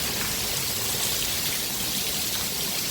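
Heavy monsoon rain pouring down in a continuous dense roar of drops, loud and unbroken with no voices.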